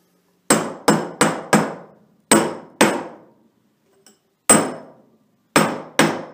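A bearing race being driven into its seat with a hammer during a Dodge NP205 transfer case rebuild, sharp metallic strikes in short bursts of two to four, ringing briefly, close and loud with silent gaps between.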